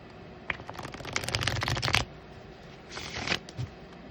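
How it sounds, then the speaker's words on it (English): Tarot cards riffle-shuffled in two bursts, a long dense flutter followed by a shorter one, close and fairly loud with brief taps between. "Three more shuffles here, Great Spirit, for Odin."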